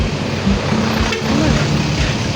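Water released through the open gates of Angat Dam rushes in a steady, loud, broadband roar that fills the whole stretch, with a faint voice barely audible underneath.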